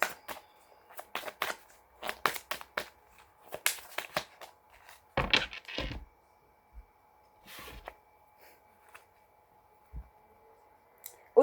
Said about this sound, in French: On remélange encore un tout petit peu. Je vais couper et aller chercher les cartes.